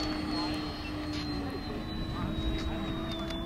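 A giant electric R/C jet flies at an outdoor flying session, giving a steady whine with a high tone gliding slowly downward as it passes, heard over a broadband rush of air.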